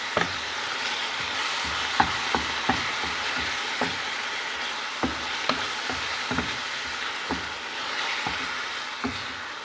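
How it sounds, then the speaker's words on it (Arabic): Chopped onion sautéing in a pan for white-sauce pasta with chicken, a continuous sizzle broken by repeated sharp scrapes and taps of a spoon as it is stirred, close and without voices. "هنشوح البصلة بالشكل ده"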